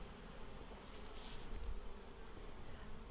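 Honey bees buzzing inside a hive as they recycle wax and complete comb cells, a steady dense hum that is faint and continuous throughout, with no talking.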